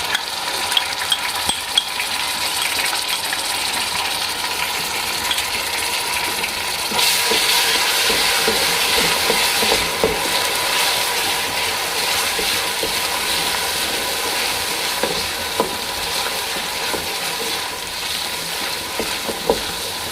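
Garlic ginger paste fries with browned onions in a pan, a loud steady sizzle with occasional stirring clicks, swelling briefly partway through.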